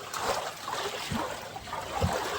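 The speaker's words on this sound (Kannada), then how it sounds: "ಸ್ನೇಹಿತರೆ ನೋಡಿ ನೀರು ತಳ್ತಾ ಇದ್ದೀನಿ" Water in a pond is pushed and splashed by hand, soft sloshing swells and gurgles at close range, faint and steady over a low background hiss.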